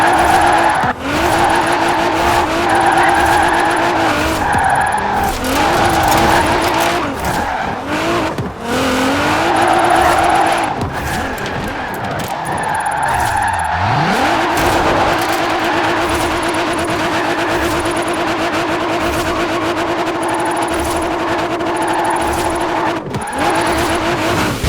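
Forza Horizon 4 car drifting through the Drift Club event, its engine holding a loud, steady high-revving drone as tires squeal and skid through long slides, with one sharp dip in revs midway before it climbs back.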